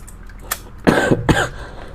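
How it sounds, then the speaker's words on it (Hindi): Two close, harsh coughs in quick succession, preceded by a soft breathy sound, in a quiet room. "खांसी आ रही है"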